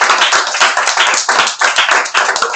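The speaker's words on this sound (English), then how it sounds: "let's give another round of applause for this amazing show tonight and these great speakers" An audience at an evening talk event applauds, dense rapid clapping from many hands, loud and close, without voices.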